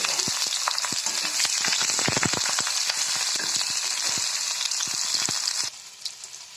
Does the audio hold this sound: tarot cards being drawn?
no